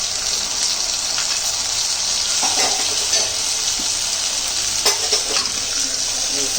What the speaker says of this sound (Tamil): இதுக்கு நம்ம தக்காளி போட்டுக்கலாம். சிக்கன் குழம்புக்கு தக்காளி போட்டுக்கலாம்.